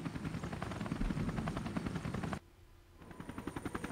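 Helicopter in the Resident Evil: Revelations video game, a loud rapid rotor thumping that cuts out suddenly for half a second, then returns in quieter, distinct pulses.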